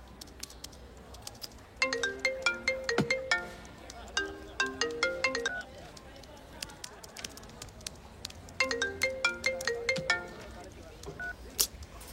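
A mobile phone rings with an incoming call in a Tamil film scene. A melodic electronic ringtone plays in two repeated bursts with a pause between them, and a few faint stray notes follow near the end.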